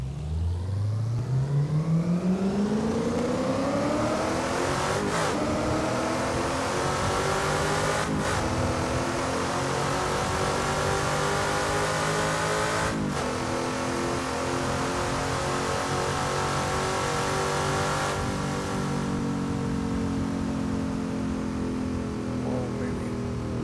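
Engine of a race car in the Assetto Corsa racing game revving steadily on a hot lap, climbing through gears with sharp shift breaks, loud and continuous with a voice talking over it.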